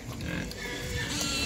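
A captive wild boar grunts while eating, the low snorts and oinks running continuously under a dense, noisy background at a moderate distance.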